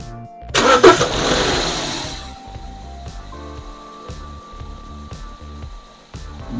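A BMW engine cranks and fires loudly after its camshaft actuator circuit was drained, settling quickly into a steady, slightly uneven idle with a rhythmic pulsing.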